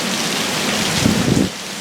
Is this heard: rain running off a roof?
yes